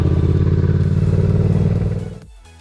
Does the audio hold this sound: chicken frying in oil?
no